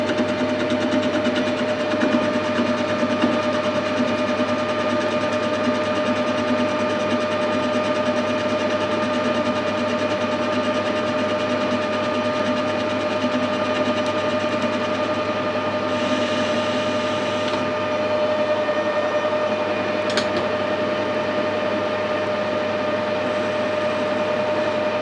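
A lathe takes a very light cut across the thread tops on a mandrel, giving a steady, continuous machine hum with a constant tone throughout and a brief faint tick near the end.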